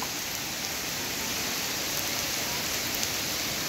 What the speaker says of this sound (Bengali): আসলেই অনেক জোরে বৃষ্টি হচ্ছে